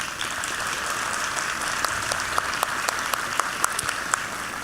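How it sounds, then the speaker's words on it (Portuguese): Audience applause at a Fenavinho book launch event, steady dense clapping from a crowd that holds evenly throughout with a few sharper claps standing out near the end. "Uma salva de palmas."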